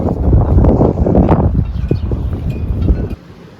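Strong wind on Cyprus buffets the microphone in loud, roaring gusts for about three seconds, then drops away abruptly to a quieter background.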